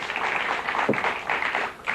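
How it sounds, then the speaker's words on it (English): An audience applauding at a 1980s high school quiz bowl taping, a brief, moderate patter of clapping from a studio crowd with a few sharper individual claps. "Let's give him a round of applause"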